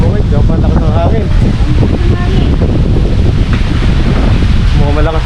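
Strong wind roars and buffets the microphone outdoors in a steady, loud broadband rush that never lets up, with voices talking now and then over it.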